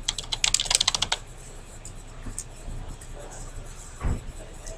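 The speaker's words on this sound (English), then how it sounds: "type your name." Fast keystrokes clatter on a computer keyboard as a name is typed into a spreadsheet header. The burst of crisp, close clicks lasts about a second, followed by quieter room noise and a soft bump.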